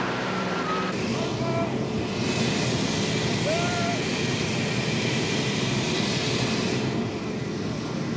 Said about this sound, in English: This Catalina is amphibious, and now we prepared for our first dry landing.